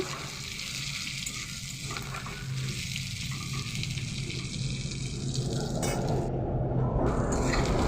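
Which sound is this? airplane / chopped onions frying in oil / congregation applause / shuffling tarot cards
chopped onions frying in oil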